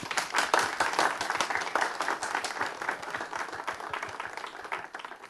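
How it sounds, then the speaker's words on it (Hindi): A village crowd gives loud applause for a national gold medalist boxer, dense clapping that starts strong and tapers off gradually. "जोरदार तालियां"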